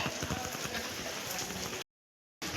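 Heavy rain pours down in a village, a steady close hiss of drops on surfaces that cuts out briefly near the end before resuming.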